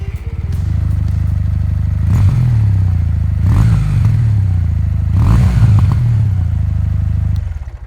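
An air-cooled Kawasaki motorcycle with a 360-degree crankshaft throbs loud and close at idle, then revs up three times in quick blips, each rising and falling back to the steady thump before cutting off.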